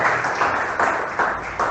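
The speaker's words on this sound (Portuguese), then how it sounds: "Palmas para Jesus" A church audience claps together in steady rhythmic bursts, about two or three claps a second, loud and close.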